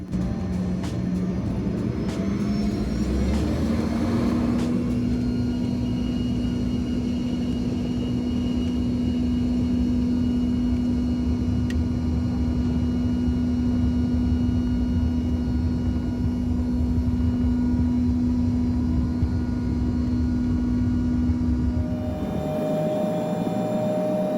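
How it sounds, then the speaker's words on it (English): A United Airlines Embraer E145 regional jet takes off from Charlottesville Albemarle Airport runway 21, heard from inside the cabin as a loud, steady engine roar with a rising whine that holds for about twenty seconds before easing. "Now, please enjoy our takeoff from Charlottesville Albemarle Airport, runway 21."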